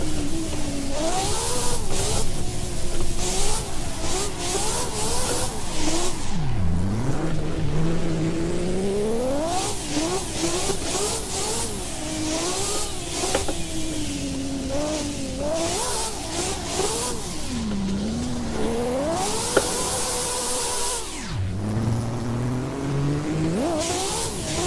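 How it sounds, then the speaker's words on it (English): A manual car pulls away in second gear for a drift, its engine revving hard and repeatedly, pitch sweeping up and down through bursts of throttle over about twenty-five seconds, loud and close with no voices. "starting from second gear and doing like I did, build up the revs and let it go"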